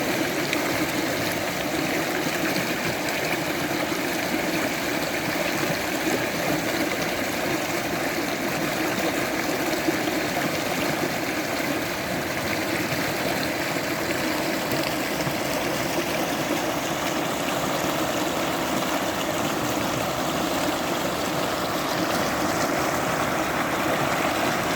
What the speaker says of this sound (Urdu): پانی کے شور اور چڑیوں کی چہچہاہٹ کو سننے لگا۔